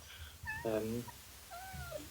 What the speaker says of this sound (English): So, is that a cat? it is a cat.